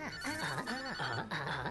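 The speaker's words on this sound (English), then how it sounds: "Whose phone is ringing?" A phone rings with a warbling, electronic trilling tone, looping quickly and steadily at close range with no talk over it.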